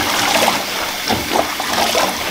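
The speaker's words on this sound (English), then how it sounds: "So I just add water to the pot." Water runs into a pot for washing collard greens, a close, continuous splashing and gurgling pour with small surges and bubbles as it fills.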